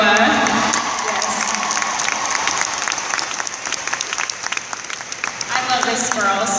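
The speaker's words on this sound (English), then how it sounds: "I would love for y'all to clap again." A crowd at a business event breaks into loud, sustained applause and cheering as a guest is welcomed. The clapping stays dense throughout, with voices shouting over it.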